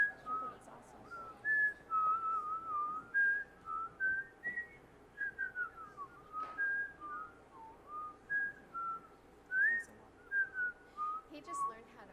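A boy who has only just learned to whistle produces a wandering string of short, breathy whistled notes with small gaps between them, fairly soft and near.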